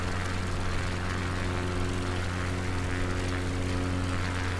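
Steady, droning propeller aircraft engine at low throttle from Microsoft Flight Simulator 2020, a constant hum with strong low tones and no break, heard alone.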